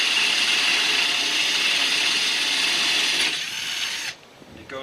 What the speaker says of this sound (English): very gently allow the drill to find its center, and when it touches the fiberglass